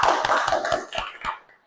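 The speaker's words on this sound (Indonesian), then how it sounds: "silakan beri tepuk tangan untuk kelompok 1" A classroom group applauds with a short run of quick claps that fade out within about a second and a half.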